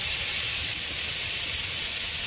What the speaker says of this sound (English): As you can already tell, this is already hot enough where you can hear that sizzle.